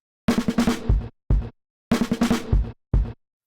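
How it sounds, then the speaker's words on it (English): Breakbeat drum fill loop sped up 20 BPM: a fast burst of punchy kick, snare and cymbal hits followed by a single accent, played twice in a row, loud and dry, with no voices. "this loop right here, which I said was just a fill I found in a breakbeat pack"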